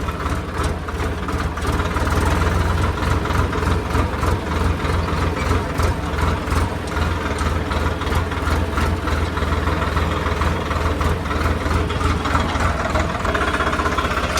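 A new tractor's diesel engine idles steadily and close by, with a deep, even, throbbing rumble that runs unbroken and never changes pace. No voices are heard over it.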